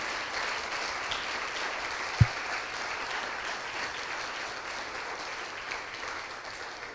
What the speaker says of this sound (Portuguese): Você pode aplaudir o Senhor? Aplauda o Senhor.